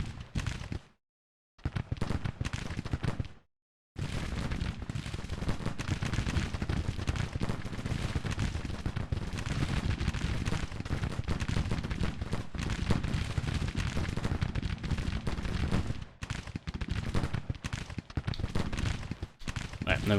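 Musket volleys crackle almost without a break in a Civil War battle game, a dense ragged stream of shots with distant booms mixed in. Faint voices talk underneath, and there are two short silent gaps near the start.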